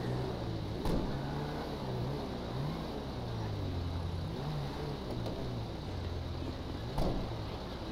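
A car engine in the game GTA, a continuous low motor drone with shifting pitch as the vehicle accelerates and slows, plus a couple of brief sharp knocks, heard alone without talk.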